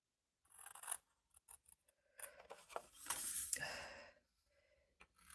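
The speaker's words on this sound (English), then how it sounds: "That's where you want to cut it to." Scissors snip through card along marked lines in a series of short, close, crisp cuts with brief pauses between them, quiet and uneven in rhythm.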